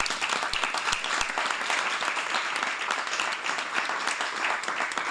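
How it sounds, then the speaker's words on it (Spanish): At the closing panel of a Spanish digital communication congress, the conference audience gives sustained, even applause, a dense wash of many hands heard from a moderate distance, with no speech on top. "yo creo que ahora un aplauso para todo lo"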